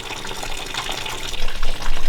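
Rainwater drains from a sagging tarp into buckets, a close, loud splashing gush that grows heavier toward the end.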